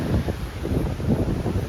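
Strong seaside wind buffets the microphone in loud, gusty rumbles, with faint surf beneath, alone and without voices.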